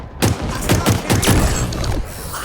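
Rapid automatic bursts from the M40 assault rifle in Halo Infinite, loud and close, with sharp repeated shots in quick rhythm across the whole stretch.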